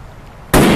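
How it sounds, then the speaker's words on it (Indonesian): One sudden, loud gunshot blast from a film scene breaks a near-silent moment and leaves a brief roaring tail. "Tapi tiba-tiba, Ragini menembak ke arah Vera dan meleset"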